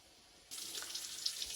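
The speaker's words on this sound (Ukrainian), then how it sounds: "Бачите, все, воду, воду всю зливаю, квасоля вже готова." Water suddenly starts pouring and splashing, a steady hissing stream into a sink as it is drained off cooked beans after a quiet moment, close by.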